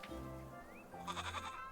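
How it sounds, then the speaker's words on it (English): A goat bleats a few times at close range, a wavering cry that breaks off and then comes back louder, with no talk over it. "You and that goat of yours, Rosemarine."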